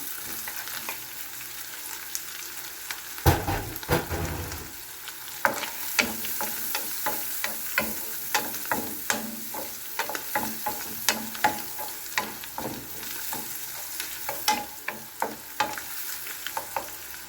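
Mushrooms hiss and sizzle in a hot frying pan while cooking alongside pork chops, with a steady fry under repeated sharp clacks of a utensil stirring and scraping.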